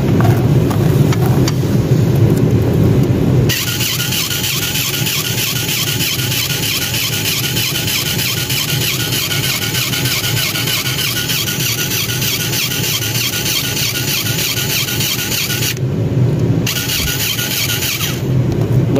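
A dry bearing on a Ski-Doo ZR 500 snowmobile squeals loudly and continuously while the engine runs, a harsh high whine that cuts out briefly near the end.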